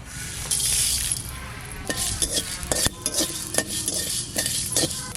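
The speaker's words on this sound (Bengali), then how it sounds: "এই তেজপাতা, জিরে, ধনে আর শুকনো লঙ্কা একটু ভেজে নেব।" Bay leaf, cumin, coriander and dry chillies are stirred in a dry pan, giving repeated close scraping and clinking from a spoon against metal over a light, soft sizzle.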